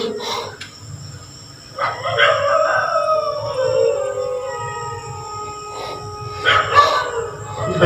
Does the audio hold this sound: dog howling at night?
yes